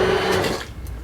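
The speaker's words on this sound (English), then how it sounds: "and you're just gonna blend everything together." A cheap Walmart countertop blender whirs through dal ingredients in a short, loud burst of motor noise that quickly drops away.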